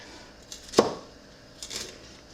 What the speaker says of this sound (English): I'm literally just gonna spend the next probably like 30 to 45 minutes chopping up jalapenos.